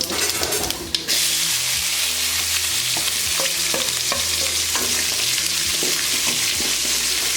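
Chicken skin and spices fry in a pan, a loud continuous sizzle with rhythmic spoon stirring and scraping, close up and without voices after a brief clatter at the start.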